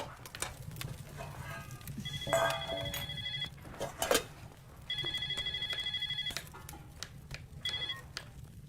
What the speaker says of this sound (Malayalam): നിന്റെ ഫോണ് ഇപ്പൊ ആരാണ് ഈ നേരത്ത്?